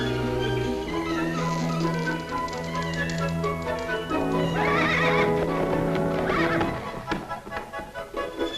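A cartoon horse from 1939 whinnies loudly while its hooves clip-clop in a steady rhythm, set against orchestral music with sustained tones.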